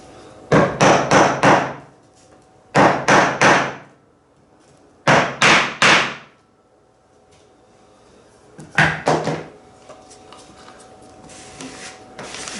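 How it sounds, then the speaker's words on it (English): A hammer taps a wooden boat part down in a workshop, striking in quick bursts of three or four sharp knocks separated by pauses, loud and close, with no speech. "where's my hammer? Should be able to just tap that down"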